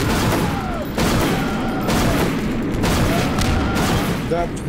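Gunfire in the video game Garry's Mod, a loud continuous barrage of rapid shots and booms that fills the whole stretch, with brief breaks between bursts and no talking.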